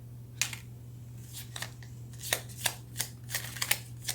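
Tarot cards are shuffled and drawn, giving a series of soft riffling flicks and snaps, irregularly spaced, close and fairly quiet over a low steady hum.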